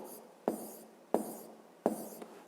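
A pen writes on paper during a fifth-grade maths exercise, making three crisp strokes spaced evenly apart, each a sharp scratch that fades into a soft drag, close and quiet, with no talking.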